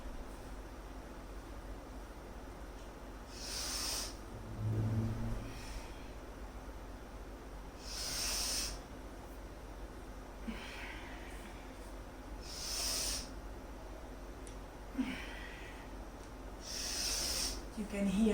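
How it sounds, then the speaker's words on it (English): Slow, deep yoga breaths, with several long airy inhale-exhale swells rising and falling at a steady pace, fairly close and soft over a faint background hiss, with no talking. "You can hear the breathing sound."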